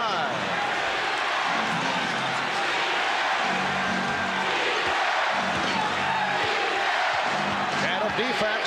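An arena crowd at the 1991 NBA Finals Game 5, Bulls at Lakers, roars steadily in a loud continuous wash under an announcer's commentary, with sneaker squeaks and bouncing from the court.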